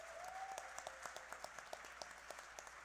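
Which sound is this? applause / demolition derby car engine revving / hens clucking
applause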